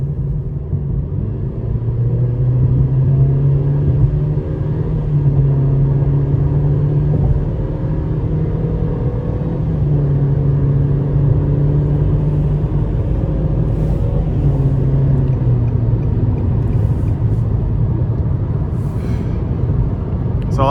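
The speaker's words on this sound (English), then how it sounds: "Let's put it in sport, give it a little throttle here." A 2024 Nissan Versa S with a 1.6-liter four-cylinder accelerates in sport mode, heard from inside the cabin as a loud, continuous engine drone whose pitch climbs and settles as throttle is applied.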